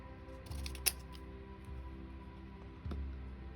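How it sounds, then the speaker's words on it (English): Scissors trim excess rubber from around a rubber stamp, giving a few quiet, isolated snips against a hushed room. "You can cut off a lot of the excess."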